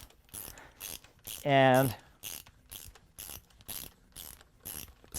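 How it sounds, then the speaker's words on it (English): A hand ratchet clicks in short rhythmic bursts while snugging engine bolts on a three-rotor rotary engine build, with a brief voice cutting in between strokes. "we're going to get some preliminary torque on all these bolts up here"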